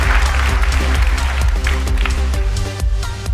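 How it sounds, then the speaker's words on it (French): An audience at a televised prime-time show applauds loudly, a thick burst of clapping layered over a pulsing music bed with a steady beat. "On l'applaudit très très fort."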